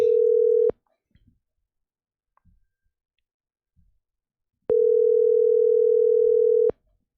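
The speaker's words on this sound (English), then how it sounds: "All right, phone dialing." An outgoing phone call gives a steady, loud electronic tone that sounds twice, a short burst then a longer two-second tone after a pause, with faint clicks in between.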